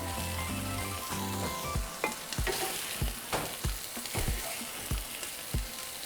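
Chorizo and tomato mixture sizzling in a pan for queso fundido, a steady close frying hiss broken by repeated sharp clanks and scrapes of stirring, no talk.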